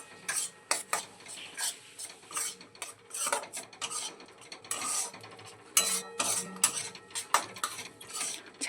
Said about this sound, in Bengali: ভালো করে সমস্তটা আবারও একটু নেড়ে নেব